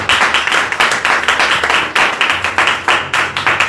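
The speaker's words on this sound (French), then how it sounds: "Acclame le Seigneur Jésus" A church congregation claps together in steady rhythmic acclaim during worship, loud and close, with repeated sharp hand claps filling the short stretch and no talk.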